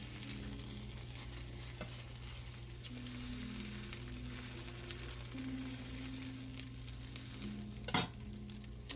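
Three pieces for a bread pudding cook and brown in a hot pan, giving a steady close sizzle with soft stirring sounds and one sharp clatter near the end.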